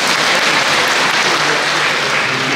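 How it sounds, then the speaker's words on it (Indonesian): Steady, even applause from a church congregation at an anniversary Mass, a dense wash of many hands clapping continuously and fairly loud, with no talking over it. "Tepuk tangan juga untuk"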